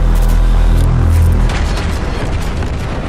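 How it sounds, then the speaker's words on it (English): The Soviet cruiser Chapayev's guns fire in World of Warships: a loud, deep booming salvo that rolls into rumbling, crackling noise fading through the rest of the moment. "firing Chapayev's cannons is like firing a machine gun with sniper accuracy"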